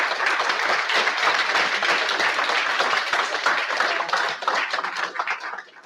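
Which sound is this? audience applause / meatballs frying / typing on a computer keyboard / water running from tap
audience applause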